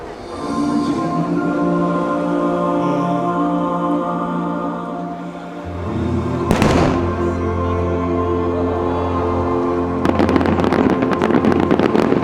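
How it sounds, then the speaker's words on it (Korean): A fireworks show over the sea in Busan, with sustained booming and crackling bursts layered over a steady roar and music, building to a dense, sharp crackling barrage near the end. "2030 부산 세계박람회 윤식이원 불꽃쇼가 모두 끝났는데요."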